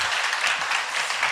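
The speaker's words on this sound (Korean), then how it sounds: "하나님께 영광의 박수 올려드리겠습니다" Short burst of clapping from a church congregation at a women's worship service, a dense patter of many hands at moderate loudness with no voices.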